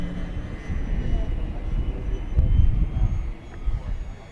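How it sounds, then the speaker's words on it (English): An FMS F3A Explorer RC airplane makes a high-speed pass at full throttle, a continuous buzzing drone that swells and peaks midway before easing off, heard from the ground with some wind noise. "I'll bring it by for a high-speed pass just to give you an idea how fast it is."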